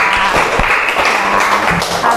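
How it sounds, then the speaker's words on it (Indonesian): An elementary school class in a religious education lesson claps together, with a short burst of fairly loud, dense hand-clapping and a few soft thumps in a small room. "tepuk tangan untuk kita semua"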